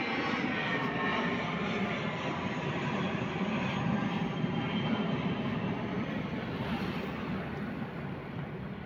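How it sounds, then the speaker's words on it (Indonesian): A Super Air Jet airplane takes off, with a loud steady jet roar that fills the whole clip and fades slightly toward the end. "pesawat berangkat"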